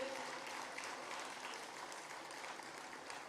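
Audience applause at a festival gathering, a dense, even clapping that holds steady for a few seconds and sounds fairly distant and soft.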